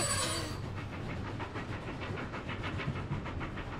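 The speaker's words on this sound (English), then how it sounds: "Titipo, there's a train up ahead, so let's slow down." An animated cartoon train rolls steadily past, its wheels making a regular clickety-clack rhythm over a continuous rumble, loud and close throughout.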